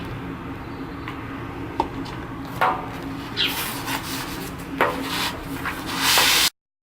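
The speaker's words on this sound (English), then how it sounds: "over the inside and the outside of the sled with a 262 grit sandpaper" Hand sanding of a metal shield replica, a Captain America shield, with 262 grit sandpaper: steady close rasping strokes with a few sharper scrapes, building to a louder burst before stopping abruptly.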